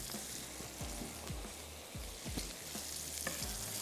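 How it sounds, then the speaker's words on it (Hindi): Cabbage and the white part of green onions with carrots stir-fry over a high flame for rice noodles, a steady loud sizzle broken by repeated scraping stirs of the pan about every half second, no voices. "हाई फ्लेम पर हमने इसको पकाना है, कुक करना है।"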